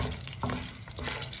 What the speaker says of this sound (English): Now we just cook them in this olive oil and butter